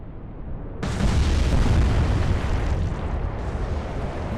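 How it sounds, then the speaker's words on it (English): A torpedo strikes a T2 tanker in the naval game Atlantic Fleet, a sudden loud boom that erupts and rumbles on as a dense, sustained roar, with no talking. "I just heard the torpedo hit the other tanker as well"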